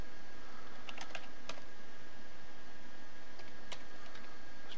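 Typing on a computer keyboard while filling in login details: a few quick irregular bursts of key clicks over a steady background hum, close and alone.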